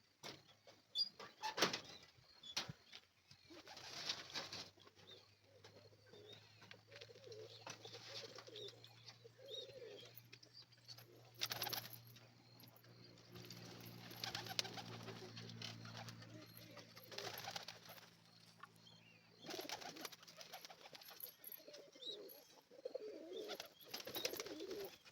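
Pigeons in a home loft setup give low, droning coos that swell and fade over several seconds, with some talking and handling noises around them.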